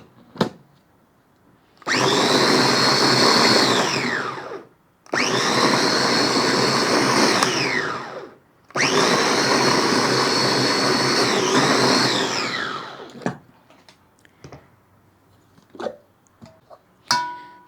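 Electric chopper grinding bread into crumbs, three loud sustained whirring bursts separated by short pauses, followed by quieter clicks and knocks of the lid and bowl.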